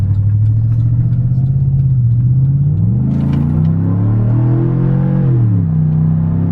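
Chevrolet Silverado engine fitted with a Cold Air Inductions intake idles with a deep rumble, then revs up in a swelling blip and settles back, loud and close with strong intake roar, no talking.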